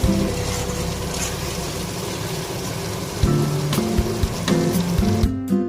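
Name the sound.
eggplant frying and being stirred in a pan over gas flame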